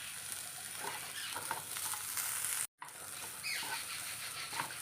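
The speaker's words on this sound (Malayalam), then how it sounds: "2 ചെറിയ കഷ്ണം ഇഞ്ചി എല്ലാം കൂടെ ഒന്ന് വറുത്തെടുക്കാം" Ginger and garlic roast in a pan for sambar, giving a quiet, continuous sizzle with soft scraping stirs and a short break midway.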